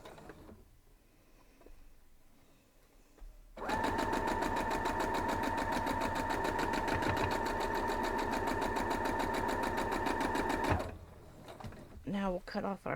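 A sewing machine stitches quilt block pieces together in one fast, steady mechanical run of several seconds, close and loud, with quieter handling noise and brief talk before and after.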